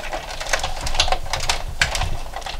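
Die-cutting machine cranked by hand with framelits and a cutting pad for a card, giving a steady run of close clicking and grinding ticks over about two and a half seconds.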